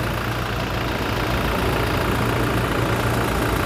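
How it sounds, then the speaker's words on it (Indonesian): A 2019 Toyota Fortuner VRZ diesel engine idles with a steady, rough low rumble that stays close and even for the whole stretch, with no voices over it. "Bisa kedengaran ya suara dieselnya, yang paham diesel pasti paham nih mobil."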